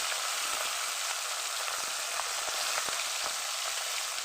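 Tengra fish frying in hot oil, a dense continuous sizzle with fine crackles, steady and close, with no voices.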